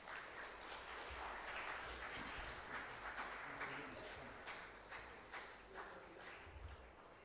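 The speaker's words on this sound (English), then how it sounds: "Just a huge round of applause, everyone, please." Audience applause at an anniversary celebration, a steady wash of clapping from a crowd that holds across the whole stretch and slowly thins toward the end, with faint voices underneath.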